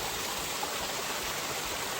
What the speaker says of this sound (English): Alright, so it's a waterfall.